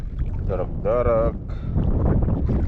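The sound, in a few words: strong wind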